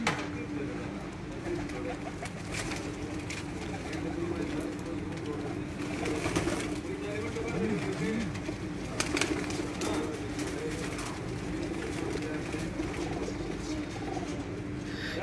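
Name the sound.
pigeon cooing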